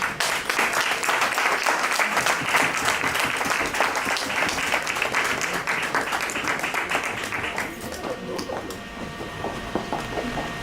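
A crowd applauds Miss Welma Mashinini Red as she is welcomed, giving dense, steady clapping for about eight seconds before it thins and fades.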